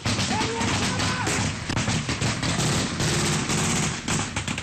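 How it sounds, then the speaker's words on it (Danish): Gunfire cracks over soldiers sheltering behind a clay wall in Afghanistan, a loud, continuous barrage of overlapping shots and impacts filling the whole stretch without pause. "så bliver der skudt lige over hovedet på os."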